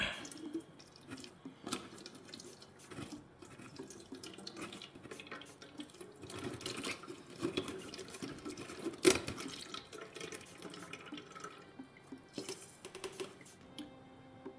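Water pressed out of soaked paper pulp in a strainer, dripping and trickling steadily like a running sink, with occasional squishes and a brief louder splash partway through; no speech.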